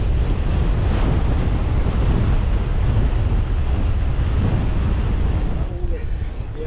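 Strong wind roars and buffets the microphone during a gravel bike ride on flooded trails, a loud, constant broadband rush that fills the whole clip with only a slight easing near the end.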